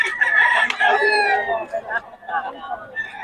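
Several roosters crow loudly close by, overlapping calls with clucking fowl around them, while someone talks over the birds.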